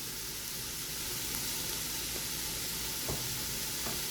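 Vegetables sautéing with salt in an Instant Pot give a continuous, even sizzle. A few faint scrapes of stirring sound against the steady frying hiss, and no one speaks.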